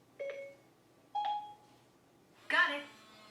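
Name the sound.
smart lock chime as front door locks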